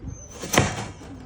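A single sharp slam of a small door or hatch snapping shut, close and brief, with quiet surroundings before and after.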